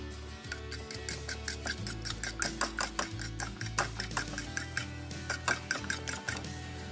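Quick, regular clicking taps of a utensil against a bowl, like an egg being beaten, with steady low humming underneath.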